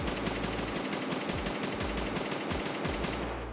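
A DMR rifle in Escape from Tarkov fires a steady rapid string of loud shots, evenly spaced and continuous for several seconds, close to the listener with no talking.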